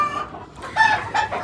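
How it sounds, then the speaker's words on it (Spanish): Chocolate hens kept with a Clemen rooster cluck and squawk close by in a few quick, shrill bursts, with no voices. "Estas son 5 gallinas chocolatas con un gallo Clemen."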